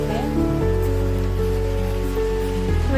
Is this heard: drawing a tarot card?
no